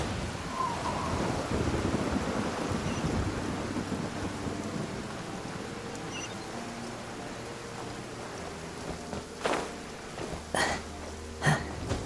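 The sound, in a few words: rain downpour in a video game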